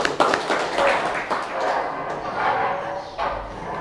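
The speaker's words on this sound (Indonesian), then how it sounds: "Oke, tepuk tangan lagi." Vocational high school students in a classroom clap their hands together in a quick burst of sharp claps that fades into a murmur of voices.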